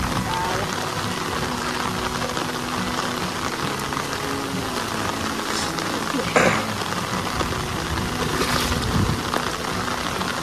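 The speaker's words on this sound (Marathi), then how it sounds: "जाम जोरात पाऊस चालू झालाय" Heavy monsoon rain pours onto a rice paddy field near Panvel during transplanting season, a dense, roaring hiss that stays constant and loud for the whole stretch with no voices.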